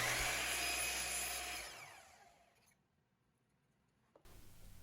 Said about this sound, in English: I'm drilling a couple of holes for magnets to sit in this dust collection selector.